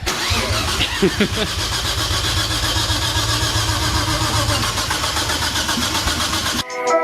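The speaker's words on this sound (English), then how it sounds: "This is the R32 first start, second time around." A Nissan R32 with an RB25 engine and lumpy cams starting up after four years, cranking briefly and then settling into a loud, close, rough idle that drones steadily before cutting off abruptly near the end.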